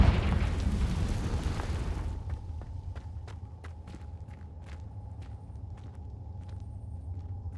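A Confringo fire spell explodes in the Hogwarts Legacy video game. A loud, full burst fills the first two seconds, then settles into a low rumble with faint scattered clicks.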